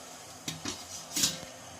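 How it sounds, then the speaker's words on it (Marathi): A metal lid clinks onto a pot of dough balls set to steam on a kitchen stove, a few light clatters followed by a louder settling clank, close and clear against a soft background hum. "यावर आपल्याला झाकण ठेवायचं आहे।"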